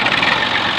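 A tractor engine runs on a farm during bajra harvesting, a brief loud, rough diesel rumble at close range with no voices.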